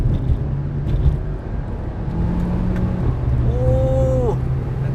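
A VW Golf 7 GTI driving along a winding two-lane road, with a steady engine hum and road rumble heard from inside, a rising engine note near the end and no talk.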